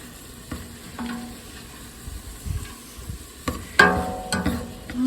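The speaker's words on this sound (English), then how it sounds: "I'm going to let this continue browning up and let the onions soften up" Sausage, onions and garlic fry in a pot for spaghetti sauce, a steady low sizzle broken by repeated scraping clinks as a utensil stirs against the pot.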